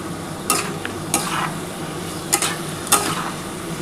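Cauliflower stalks and potato with poppy seed paste stirred in a pan, with four sharp spatula scrapes spaced over a soft, continuous sizzle, close and fairly loud, without speech.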